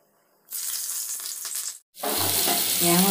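Panch phoron spices hit hot oil in a pan, setting off a loud, close sizzle that stops briefly and then bursts back even stronger with a sputtering crackle.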